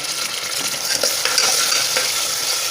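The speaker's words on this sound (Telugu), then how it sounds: "ఉల్లిపాయ పచ్చిమిరపాయలు వేసేస్తున్నాను" Onions and green chillies frying in hot oil in a home kitchen pan, a steady bright sizzle with brief stirring scrapes, close and fairly loud with no voices.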